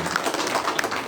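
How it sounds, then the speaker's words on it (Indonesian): A seated audience at a school gathering claps for a teacher: a brief burst of dense, close applause with no voices over it. "Tepuk tangan untuk Ibu kita ini."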